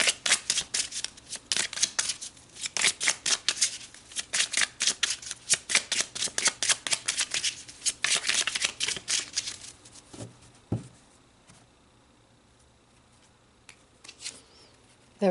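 A deck of tarot cards is shuffled in a rapid run of crisp riffling strokes, close and steady, then it tapers off into a few soft card handling sounds.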